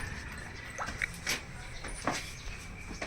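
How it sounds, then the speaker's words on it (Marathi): A dog whimpers and gives a few short, soft yips at scattered moments against a quiet background. "आणि तुमचं डॉगी कुठे डॉगी हे आला तो खाली पळत"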